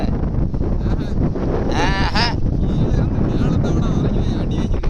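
Strong sea wind roars steadily across the microphone aboard a fishing boat on rough water, loud and constant, with brief creaking or whistling tones partway through and a voice briefly under it.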